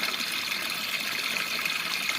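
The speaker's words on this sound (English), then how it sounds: "There was a little stream there, so it's a trickle." Small trickle of water dripping and running at a garden pond in cold weather, a steady faint hissing splash with no talking.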